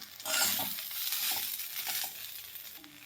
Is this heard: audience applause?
no